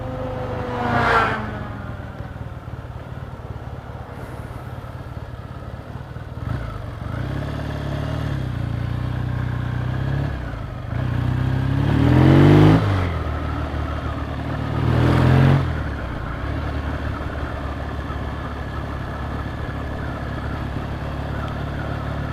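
An old restored motorcycle rides along a road, its engine droning steadily with wind rush throughout and a few swelling revs as it accelerates, close and continuous with no talking.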